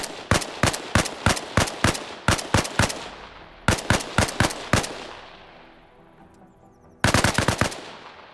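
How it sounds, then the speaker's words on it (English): AK-74U rifle fired in the Arma Reforger video game, loud close bursts of rapid automatic shots in several strings with short pauses, each burst trailing off in an echoing tail, no talking. "Let's throw some rounds down range."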